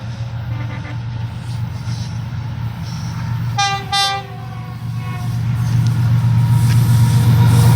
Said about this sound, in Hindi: ये आ गई ट्रेन, दोनों की क्रॉसिंग हो गई